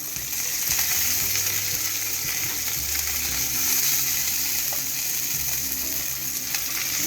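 A hamburger patty fries steadily in a pan, giving a continuous close crackling sizzle with a low hum underneath and no voices.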